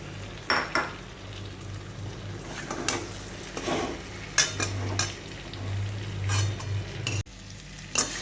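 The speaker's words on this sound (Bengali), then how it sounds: "চিংড়ি মাছটা খুব ভালো করে এর সাথে মিশিয়ে নিয়েছি" Fried prawns being stirred into a simmering curry in a pan: soft sizzling under repeated spatula scrapes and clinks against the pan, moderately close, with no talking.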